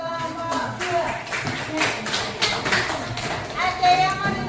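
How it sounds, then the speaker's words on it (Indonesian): Scattered clapping from students in a classroom after a group presentation, sparse uneven claps under children's chatter and a nearby adult voice. "Tepuk tangan silakan untuk kelompok 2."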